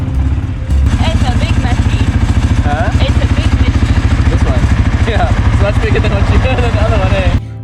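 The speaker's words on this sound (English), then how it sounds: "these ATVs are some beasts we're not used to" A quad bike engine on a mountain tour in North Macedonia chugs with a fast, regular, throbbing pulse, loud and close, while a person talks over it.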